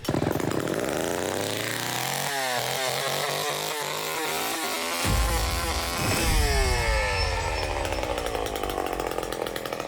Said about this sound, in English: went over the sounds they came up with for the chainsaw that we are going to be using in this